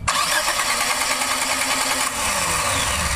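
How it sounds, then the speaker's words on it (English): A car engine cranks steadily without catching during a no-start, no-spark diagnosis on an ignition with a distributor and coil, a continuous close whirring drone that holds its level for the whole stretch. "Now we're gonna crank the engine and we should have a blinking green light."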